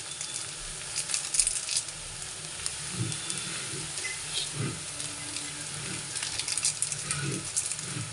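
Maggi noodles with masala sizzle and fry in a pan while being stirred, with a steady bright hiss and repeated soft scraping strokes of the spoon against the pan, close up with no talking.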